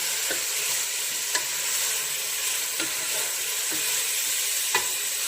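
Chicken biryani masala sizzles steadily in a pan while it is stirred, with a spoon tapping the pan about five times at uneven intervals over a constant, fairly quiet frying hiss. No one speaks.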